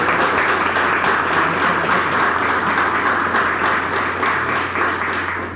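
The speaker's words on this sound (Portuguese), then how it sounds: "eu peço uma salva de palmas" A lecture audience in Paraná gives sustained applause, dense, even clapping at steady volume throughout with no speech over it.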